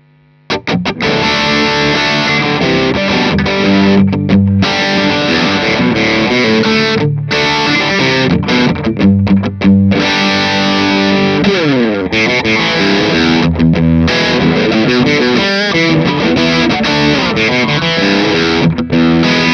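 A 1952 Telecaster electric guitar plays through a Silverface Twin Reverb amp with the pedal bypassed, producing loud, continuous chords and riffs with brief pauses and no speech.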